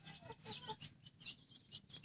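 Faint chickens cluck softly in a few short, irregular bursts, sounding somewhat distant.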